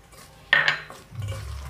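Rohu fish being mixed by hand with spice paste in a bowl: a sudden clattering scrape against the dish, then a softer, squelchy rumble of stirring, close and fairly quiet, with no speech.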